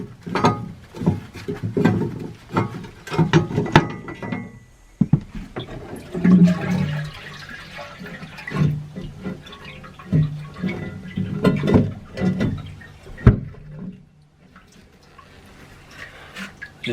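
Water drains and gurgles at the weed hatch of a narrowboat, above the propeller, in uneven surges and splashes with a few knocks, close by, then quiets near the end.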